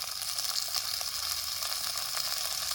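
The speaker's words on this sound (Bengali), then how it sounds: "তেল গরম হয়ে গেছে, সাজনা ডাঁটাগুলিকে আমি হালকা ভেজে নেব।" Moringa drumsticks with turmeric sizzle and crackle in hot mustard oil in a pan, a steady close frying hiss with no talk.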